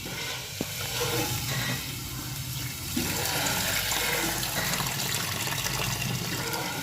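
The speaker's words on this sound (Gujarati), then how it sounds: "આપણે પૌવાને પહેલાં ધોઈ નાખીએ" Flattened rice (poha) being washed in water, with continuous splashing and running water, a single sharp knock early on, and the water growing louder in the second half.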